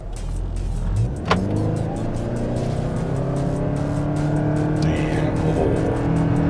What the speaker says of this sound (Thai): อัตราเร่งดีมากนะฮะ เริ่มต้นด้วยโมเตอร์ไฟฟ้าก่อนนะครับ แล้วก็หลังจากนั้นก็ทำงานกับเครื่องยนต์นะครับ